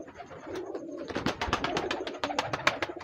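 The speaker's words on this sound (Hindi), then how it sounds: "ये हमारे शहजादे कबूतर हैं जी, सुर्ख हैं।" Red Sialkoti pigeons coo up close, their soft repeated calls layered over a rapid series of sharp clicks or wing taps.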